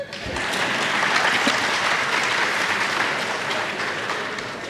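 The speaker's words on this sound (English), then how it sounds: "Yeah, you can clap for me for that." Sustained audience applause at a University of Namibia commencement ceremony, a dense steady wash of many hands clapping that holds at full strength for several seconds, then eases off slightly at the end.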